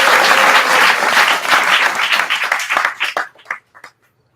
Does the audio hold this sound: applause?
yes